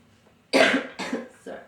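A man coughs during an interview: three sharp, close coughs, the first loudest, separated by short pauses in a quiet room.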